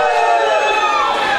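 Live audience at a comedy show cheering and shouting on cue, a loud, dense wall of whoops and yells sustained throughout.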